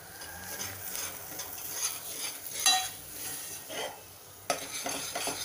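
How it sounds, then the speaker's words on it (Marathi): Green masala of fresh country coriander being sautéed and stirred in a pan, a soft steady sizzle with scraping and clinking of a spoon against the metal, close and moderately quiet. "हे मी छान अर्धा मिनिट परतून घेते।"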